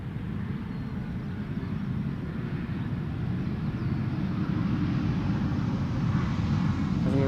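An Embraer E2 jet airliner at Schiphol Airport makes a steady, broad rumbling roar that holds constant and grows slightly louder toward the end, heard from a distance with no voices.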